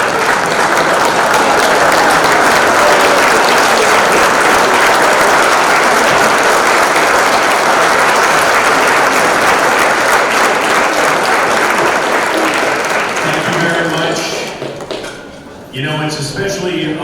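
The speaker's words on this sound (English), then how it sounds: "Audience, if you would please stand and give them a round of applause." A standing audience at a Dallas school district athletic hall of fame ceremony gives loud, dense applause that holds steady, then tapers off near the end as a voice begins to speak.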